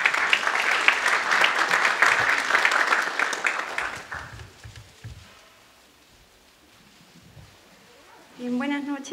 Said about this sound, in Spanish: a quien los invito con un caluroso aplauso a recibirla